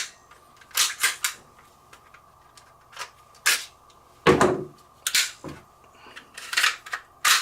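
A Cybergun Glock 17 airsoft pistol gives sharp, isolated clicks and snaps from trigger pulls and shots, irregularly spaced and close, over a faint steady hum.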